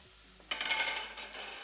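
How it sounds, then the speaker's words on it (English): Risotto rice with garlic, leek and cayenne stirred in a pan: after a quiet moment, a sudden close scraping swish of the spoon through the grains, lasting about a second before easing off. "So give that a good stir around."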